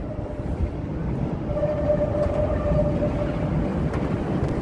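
A Chicago Green Line elevated train passes along the tracks near Wabash, a steady rumbling roar with a faint tonal whine rising midway, heard from street level with no talking.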